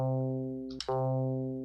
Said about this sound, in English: if I were to just take the detune off completely, it would sound like this